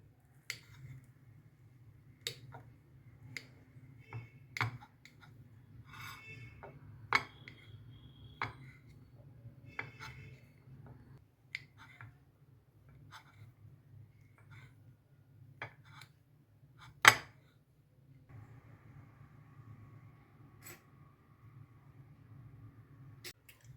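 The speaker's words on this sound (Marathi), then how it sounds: "त्याचे आता आपण चकत्या कापून घेऊया" A knife slices a cooled, steamed drumstick (shevga) muthiya roll into rounds. Soft, scattered taps and clicks on the board come at irregular intervals, faint and close, with no talking.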